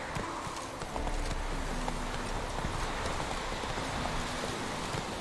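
Hooves of Roach, a ridden horse in a video game, clip-clop in a steady, even rhythm over a constant rain-like hiss, moderately close and fairly quiet.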